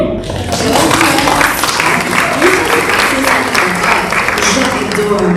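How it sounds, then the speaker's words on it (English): An audience at a Climate Week sustainability industry event applauds someone speaker, loud continuous clapping from a sizeable crowd in a hall, with some cheering voices mixed in. "Big applause for this woman, really."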